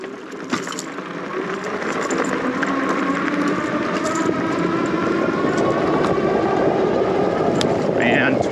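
A Philodo H8 eBike rated to 35 mph accelerating on throttle down a sandy trail, its motor whine rising steadily under constant heavy wind rush.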